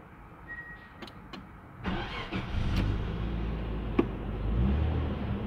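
An EFI car with a check engine light being started: a few faint clicks, a brief cranking surge, then the engine catches and settles into a steady low idle with a small knock partway through.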